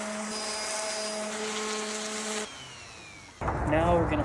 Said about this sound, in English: This is the next round of sanding, so I'm using a 220 grit to make smooth surfaces even smoother.